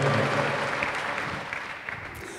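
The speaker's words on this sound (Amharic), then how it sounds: "ጉባኤው ለእግዚአብሔር ክብር፣ እልልታ፣ ጭብጨባ።" A church congregation claps in a dense, sustained wash of applause that slowly fades, with occasional higher bursts of ululating voices.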